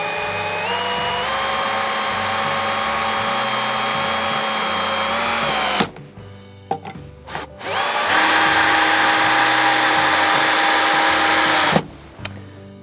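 Hikoki D18DJLWVZ cordless drill driver driving 70 mm screws into wood at slow speed, a steady close whine that winds down, then short bursts and a second sustained run before stopping.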